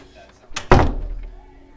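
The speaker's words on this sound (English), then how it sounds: "Oh, and they shut the door. Yeah, slam the door." A door slams shut indoors, a single loud, close thud with a sharp impact and short rumbling decay, preceded by a softer bump.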